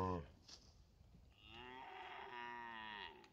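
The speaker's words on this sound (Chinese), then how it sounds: "这牛是小牛。" A young calf on a mountain pasture among a herd of cattle gives a single drawn-out moo, loud and close, after a brief voice at the start.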